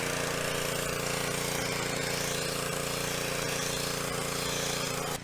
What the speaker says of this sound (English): the pressure washer is taking a lot of the paint off